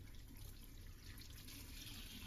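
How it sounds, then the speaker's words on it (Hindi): Running water fills a wash basin as grapes are washed, a steady hissing tap stream with faint splashing, continuous and close, with no voices. "सारे अंगूरों को मैं अपने वॉश बेसिन में डाल दूंगी, इसे बहुत अच्छी तरह से धोऊंगी।"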